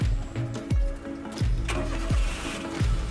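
A Maruti 800 small car engine cranks in repeated short bursts, each sputtering turnover followed by a brief lull, close and fairly loud with no voices.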